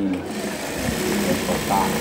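A sewing machine stitches a safari shirt, its needle mechanism humming and clattering in a steady run, close by, with a person talking over it.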